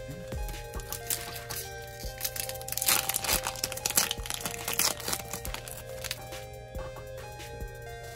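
A Japanese Arcanine Pokémon card slides into a plastic sleeve with steady crinkling and rustling of thin plastic. Close, soft crackles run throughout over a low constant hum.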